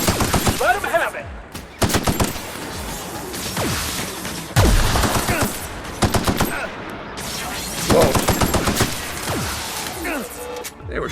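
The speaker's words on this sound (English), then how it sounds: "They were shooting at me." Rapid bursts of automatic gunfire and sharp single shots crack repeatedly from enemies in the video game The Outer Worlds, loud and close with brief pauses between volleys.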